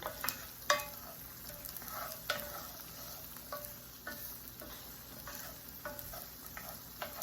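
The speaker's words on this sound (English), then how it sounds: "Stirring my onions and carrots around." Onions and carrots sauté in a pan for shepherd's pie, a quiet steady sizzle under repeated light scrapes and taps as the vegetables are stirred around, with no voices.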